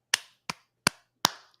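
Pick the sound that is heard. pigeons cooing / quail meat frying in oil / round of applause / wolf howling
round of applause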